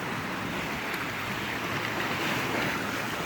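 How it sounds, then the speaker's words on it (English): Waves crash against rocky cliffs at Pictured Rocks near Munising, Michigan, a steady rushing roar of surf mixed with wind buffeting, heard from a passing boat. "Waves crashing."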